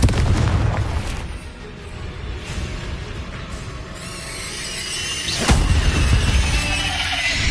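A Confringo blasting spell explodes in Hogwarts Legacy, a loud booming blast with a sharp crack near the middle, set against dense, continuous game combat noise.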